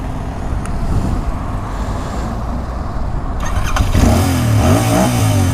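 A 2020 Royal Enfield Interceptor 650 BS6 motorcycle, a heavy twin-cylinder bike, idles with a loud steady rumble, then a click and a rising rev as the engine is started and throttled up close by.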